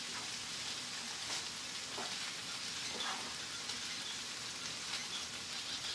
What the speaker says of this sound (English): We're going to mix this right into the pan